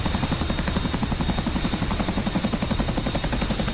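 A helicopter in the video game NP Syria, its rotor chop a steady, rapid, rhythmic thudding over a continuous engine whine, loud and close throughout with no voices.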